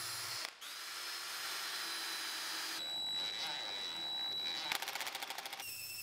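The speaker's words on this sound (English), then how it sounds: "I countersunk some holes so that I could plug them later with some plugs I made." Power drill whirring in a few bursts with a high steady whine, countersinking holes in wood, close and steady, with a rattling burst near the end.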